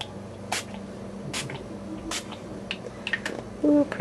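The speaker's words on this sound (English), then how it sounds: "I'm just going to kind of randomly spray it" Short hissing bursts of spray paint, gold included, hit a yellow mixed-media canvas, several separate puffs spaced out in an irregular rhythm, close and fairly quiet.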